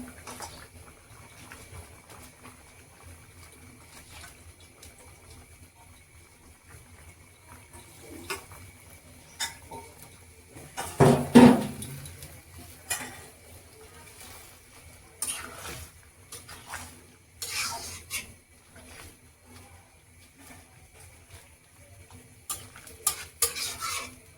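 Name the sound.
thankuni leaves added to pot with potatoes, cooking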